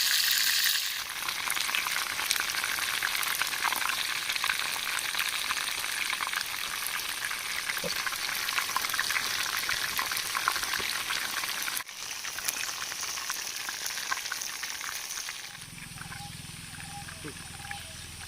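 Fish and brinjal fry in hot oil with a steady, dense sizzling crackle that carries on for the whole stretch, softening slightly near the end as a low hum comes in.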